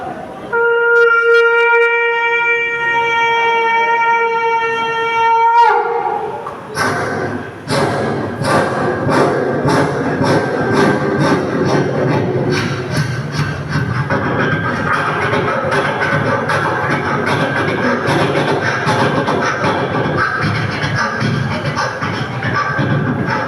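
A voice imitates a Konkan Railway train: a sustained horn-like tone comes first, then a long run of rhythmic, chugging clatter that carries on steadily to the end.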